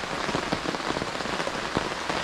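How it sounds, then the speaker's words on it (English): Rain patters on surfaces at a lakeside campsite at Lake Kissimmee State Park in Florida, a dense steady hiss of drops with scattered louder taps, no talking. "I gotta sit here and wait for the rain to quit"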